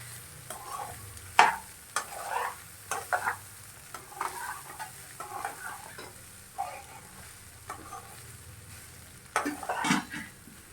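Fried egg and cooked rice are stirred together in a hot pan, a spatula scraping and tossing in bursts over a steady frying sizzle, with occasional clinks of utensil on metal and no talking.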